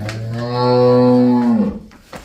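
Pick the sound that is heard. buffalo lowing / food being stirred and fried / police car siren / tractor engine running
buffalo lowing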